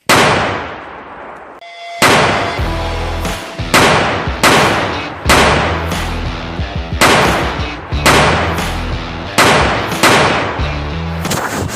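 Diwali firecrackers bursting in a string of loud, sharp bangs, about a dozen over several seconds, each cracking hard and ringing out briefly before the next, with no talk over them.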